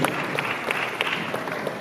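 A brief burst of crowd applause at a New Year's celebration at the Basketball Hall of Fame in Springfield, dense scattered clapping heard at a moderate distance.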